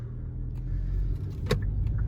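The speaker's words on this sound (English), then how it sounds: "Lots of diesel trucks. Got 16-wheeler, 18-wheelers, all right here." Diesel trucks, 16- and 18-wheelers near Alliance Airport, produce a steady low engine rumble close by, with a brief metallic clink partway through.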